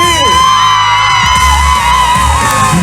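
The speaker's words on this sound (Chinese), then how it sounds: "全场的尖叫声在哪里？" An outdoor festival concert crowd screams and whoops for a singer, a brief, loud, sustained wall of high shrieking voices over pounding low band music.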